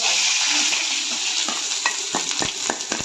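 Food frying in hot oil for a chicken chilli dish, a loud close hiss that settles while sharp spatula stirs and clinks against the pan come in rapid succession toward the end.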